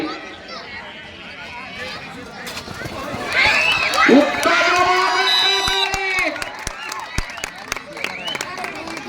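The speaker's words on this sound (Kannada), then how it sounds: "ಜೋರಾದ ಚಪ್ಪಾಳೆ ಇರಲಿ" Spectators clapping and cheering at a village kabaddi match, a swelling noisy crowd with sharp claps scattered throughout, heard under a commentator's continuous speech.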